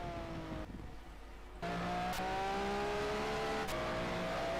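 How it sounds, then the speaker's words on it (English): A flat-ten race car engine in a sim racing game revs hard and steadily, its pitch climbing in smooth sweeps between gear changes, loud and continuous with no voices. "Oh, what a beautiful sounding engine."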